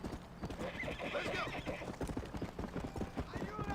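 Horse hooves clip-clop in a steady, brisk rhythm in a video game, close and clear, with a whinny and a voice talking over them.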